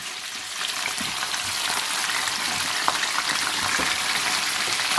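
Lemon-marinated chicken pieces frying in a karahi for Balochi chicken karahi, a dense, steady hissing sizzle close up, continuous throughout with no voices.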